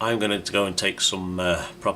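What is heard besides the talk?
No everyday noises stand out.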